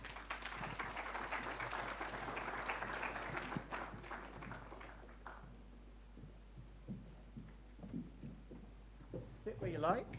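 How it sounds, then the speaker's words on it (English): An audience claps to welcome a panel onto the stage at a data and privacy summit council session. Dense applause fills the first five seconds, then fades into scattered sounds and talking. "So give them a round of applause"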